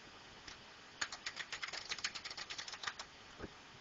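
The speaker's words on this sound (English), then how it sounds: "I'm going to click there and just type in some text" Quick, faint keystrokes on a computer keyboard, a short burst of light clicking taps in an irregular rhythm, close and quiet, with no talk.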